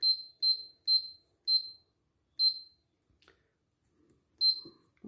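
Oven timer buttons pressed in a home kitchen while baking cinnamon buns, giving a series of short, clear electronic beeps at an uneven pace, five quick ones then a pause and one more, with faint handling noise between.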